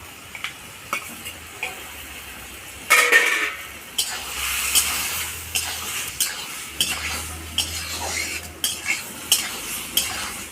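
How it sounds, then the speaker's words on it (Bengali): Fried eggplant and lentil dumplings drop into a pan of spinach and vegetables simmering in their own water, with a spoon stirring and scraping in repeated close knocks over a soft bubbling sizzle. "এবার আমি ভেজে রাখা বেগুন আর বড়ি একসঙ্গে দিয়ে দেবো।"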